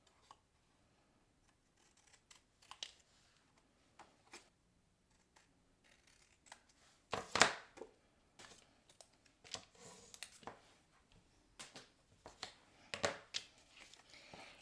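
Scissors cut away excess paper during a stamping card craft, giving quiet, scattered snips and rustles in a near-silent room, with a couple of louder paper crackles.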